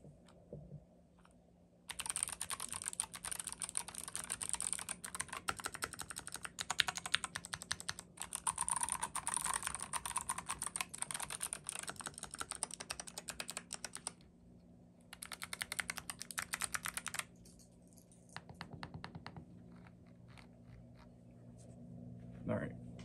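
Typing on a Glorious GMMK Pro mechanical keyboard: close, rapid clacking keystrokes in bursts separated by short pauses, with a quieter spell of scattered presses near the end.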